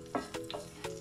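Chilli and cumin seeds roast in a hot pan, giving a soft sizzle with a few brief stirring scrapes at close range and no talking.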